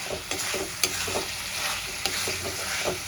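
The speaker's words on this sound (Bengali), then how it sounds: "ভেজে রাখা আলুটাও মশলার সঙ্গে দিয়ে কষাতে থাকবো" Fried potatoes stirred into spices in a pan for a thin katla fish curry with potatoes, a close, steady sizzle broken by repeated scraping strokes of the spoon at an uneven rhythm.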